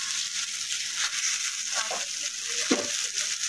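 Okra sizzles and fries in a pan, a steady close hiss with a few stirring scrapes and clatters toward the end.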